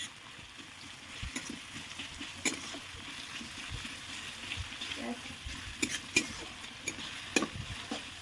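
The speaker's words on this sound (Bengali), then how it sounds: "পেঁয়াজটা ভালোভাবে ভেজে নিতে হবে, লাল লাল করে।" Onions fry in a pan for a Bengali rohu fish curry, giving a steady, moderate sizzle broken by scraping stirs and small clicks of the utensil.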